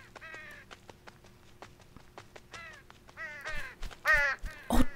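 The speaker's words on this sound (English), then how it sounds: "Okay, more birds." Birds in the video game Unravel cawing and honking in a rapid series of calls, growing louder and busier toward the end, with no talk.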